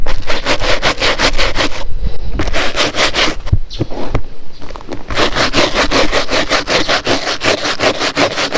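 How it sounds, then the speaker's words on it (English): Stiff brush scrubbing an old golf bag in steady, rapid back-and-forth strokes, loud and close, with a short pause midway before the rhythmic rubbing resumes. "I continued scrubbing it with the brush and removed as much as I could"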